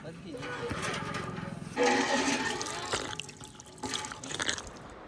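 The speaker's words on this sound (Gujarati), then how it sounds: "કહેતો ને ડંકીનું પાણી એક જ મોડેલ હો આ" Water gushes and splashes steadily from a government hand pump outdoors in a hill area, fairly close, in uneven surges as the handle is worked, with people talking over it.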